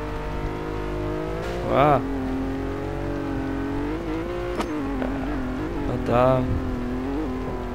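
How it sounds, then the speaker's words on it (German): A car in the racing game Test Drive Unlimited 2 revs and accelerates with a steady engine drone and two sharp rising engine surges, while someone talks over it. "Diese Beschleunigung hat das Ding immer noch drauf."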